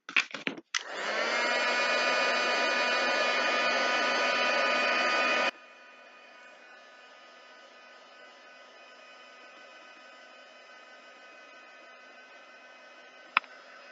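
A heat tool blowing steadily to dry paint on altered domino charms, a close, loud whirring hiss for about five seconds that drops to a softer hum, ending with a sharp click.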